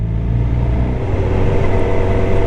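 An S-Wedge Ford Capri drives along a road near Snowdon mountain in Wales, its engine giving a loud, steady close-up rumble that swells slightly over a couple of seconds, with no voices.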